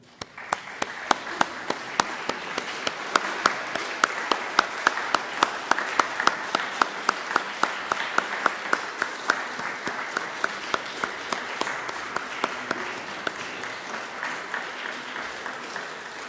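A church congregation in Strasbourg claps for about sixteen seconds, a steady moderate round of applause in a reverberant room, with a few prominent individual claps standing out.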